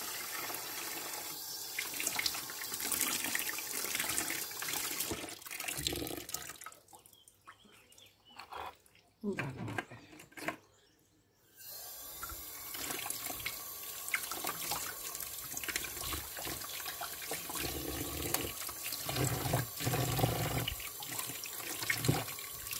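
Water is poured onto the soil of a potted cyclamen, a close splashing, trickling flow that pauses briefly midway before resuming steadily, with no voices.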